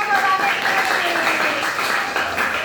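Classroom full of students clapping hands together, a steady dense patter of many palms filling the room, with faint voices mixed in.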